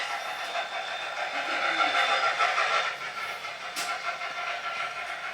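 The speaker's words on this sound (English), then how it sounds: "the sugar train pulls ahead, switches off the main line to go around the yard." A sugar cane train rumbles and hisses steadily through a rail yard near Kaanapali at moderate distance, with clanking wagons and a brief sharp squeal near the end.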